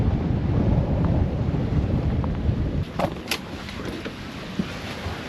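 Strong south wind blows over a sailboat at sea in the Tuamotu islands, a loud steady roar buffeting the microphone, with a few faint creaks and knocks from the rigging near the end.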